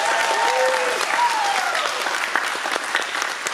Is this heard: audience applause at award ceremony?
yes